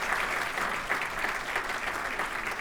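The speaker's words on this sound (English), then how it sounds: "Another round of applause for Donna." Sustained applause from an audience at a Torrance Area Chamber of Commerce gathering, steady and dense for the whole stretch with no voices over it.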